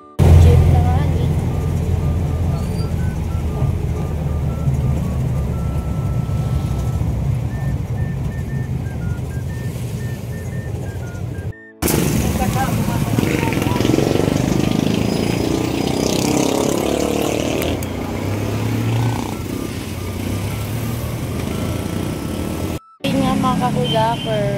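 A jeepney engine idling in street traffic, a loud steady rumble broken by two brief cutouts, with other traffic noise and people talking around it.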